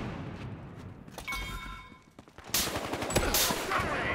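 Gunfire in the video game Battlefield Hardline: a few sharp shots around 1 to 2 seconds, then a louder burst of rapid fire that holds steady through the second half, with no talk over it.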